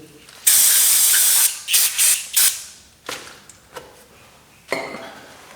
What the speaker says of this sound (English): first we clean it up with brake clean